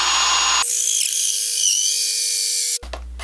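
A 3.5 inch hole saw on a drill bores through wood with blue tape laid over the cut, giving a loud, steady grinding whine that holds for about two seconds before cutting out abruptly.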